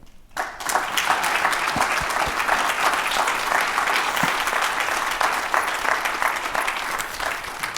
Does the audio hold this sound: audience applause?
yes